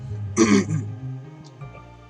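A single close, rough throat clearing, followed by quiet room tone.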